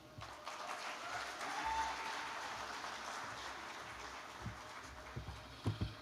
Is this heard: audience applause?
yes